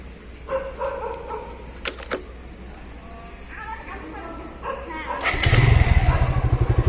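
A motorcycle fitted with a remote control security system cranks and fires up, settling into a throbbing close idle near the end, after a stretch of someone talking with a few clicks and knocks.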